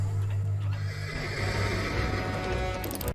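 A horse neighs loudly and at length in a Doctor Who episode, the whinny rising over a dense background of music and ambient sound.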